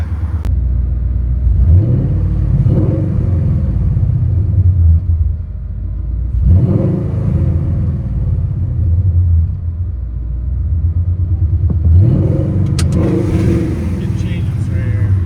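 Coyote 5.0L V8 swapped into a 1992 Ford Mustang LX with 14-inch Magnaflow mufflers, heard from inside the car: deep rumbling exhaust swelling through repeated revs and accelerations, loud and close, with voices speaking over it.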